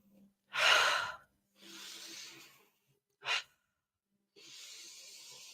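Deep breaths during a group breathing exercise: a strong inhale, a long exhale, a quick sharp sniff, then another long breath out, close and breathy, with pauses of silence between them.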